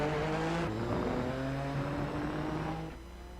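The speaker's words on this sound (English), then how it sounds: "You can hear a few cars have decided to come down pit lane, but Holbert goes quick." Race cars in the iRacing sim at Circuit of the Americas roll down pit lane, engines droning loudly and steadily with shifting pitch before easing off and fading near the end.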